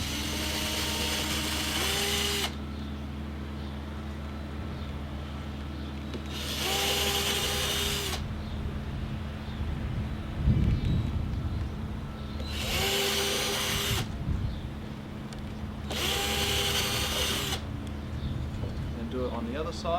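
A power drill bores holes into a wooden bench hive in four separate whirring bursts, each a few seconds long with rising and falling pitch, close by, alternating with quieter gaps where birds coo.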